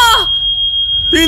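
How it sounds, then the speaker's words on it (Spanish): An alarm rings with a steady high electronic tone, loud and continuous, briefly framed by excited voices at the start and end. "¡Apaguen la alarma!"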